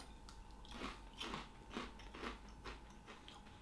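Crunchy Sour Patch Kids cereal being chewed close up, four or five faint, evenly spaced crunching bites over quiet background, no talking.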